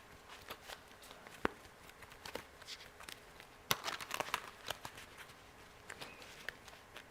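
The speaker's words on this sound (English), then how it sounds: "I'm just going to give a couple more shuffles." Tarot cards being shuffled by hand during a live reading: soft, irregular riffling taps and papery flicks, quiet and close, with a busier burst of shuffling midway.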